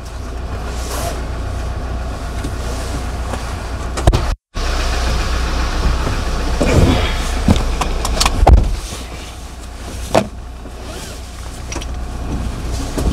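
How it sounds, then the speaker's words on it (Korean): A car engine idles steadily inside the closed cabin during a Korean type 1 driving licence lesson, with a low continuous rumble, a brief door thunk and a few soft clicks. "시동 걸려 있어요."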